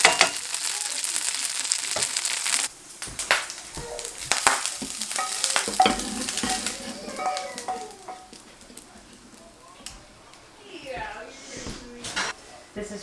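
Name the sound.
hominy cooking in bacon grease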